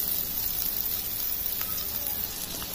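Onions sauté in a pan with a little salt for wheat rava kitchadi, a steady soft sizzle and fine crackle running evenly throughout, close but fairly quiet, with no talking.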